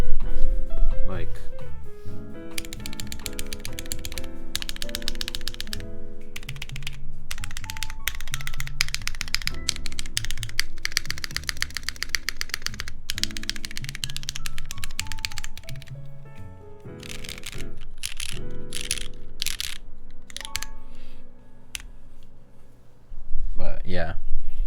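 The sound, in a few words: typing on Thermal mechanical keyboard by RamaWorks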